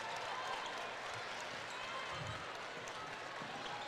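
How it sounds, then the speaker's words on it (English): Girls' basketball state championship crowd noise from a Notre Dame versus Pewaukee game, a steady dense murmur of many voices filling the arena with scattered cheers and occasional ball bounces throughout. "A slight murmur starts to build."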